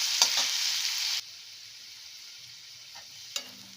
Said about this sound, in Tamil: இப்போது இதை நம்ம 2 நிமிஷம் வதக்கியாச்சு.